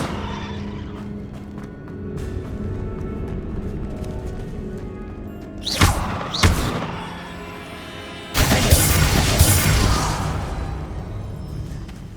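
The Bombarda blasting spell in Hogwarts Legacy: two quick whooshing bursts land close together, then a bigger blast erupts and trails into a rumbling wash over game background sound.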